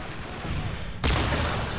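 Sniper rifle fire in Modern Warfare 3 multiplayer on the Bakaara map: a sudden loud shot cracks out about midway and its harsh, noisy blast stays loud to the end, with steady game noise before it.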